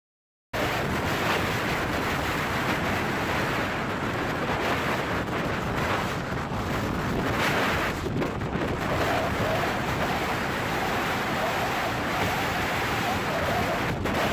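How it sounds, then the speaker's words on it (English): Storm waves at sea buffet a large Dutch-flagged fishing vessel, a loud continuous roar of wind and crashing water with heavy wind noise on the microphone after a brief silent start. "A large fishing vessel flying the flag of the Netherlands confidently passes the waves in a storm."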